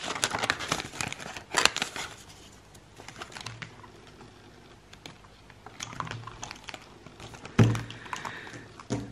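Banknotes are handled and slipped into a paper envelope for a monthly budget, making close crinkly paper rustles and soft taps in irregular bursts.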